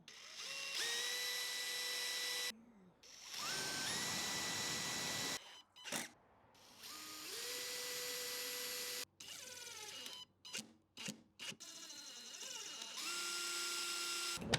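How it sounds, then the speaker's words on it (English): A power drill whirs in several sustained bursts while drilling a pilot hole in wood, pitch rising as it spins up and dropping under load, with short pauses and clicks between runs. "Let's drill a little pilot hole."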